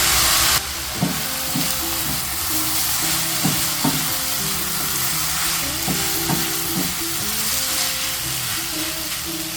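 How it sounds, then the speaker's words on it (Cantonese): Silver needle noodles being stir-fried in a wok give a loud, continuous sizzle and hiss, with regular scraping strokes of the spatula recurring about every second. "呢啲銀針粉呢，唔需要炒太耐，我哋大約炒佢2至3分鐘就得㗎喇。"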